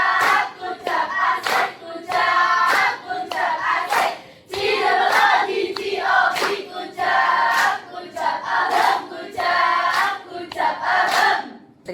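A school class of students claps in unison, giving rhythmic bursts of many hands with short pauses between them and group voices shouting along in time.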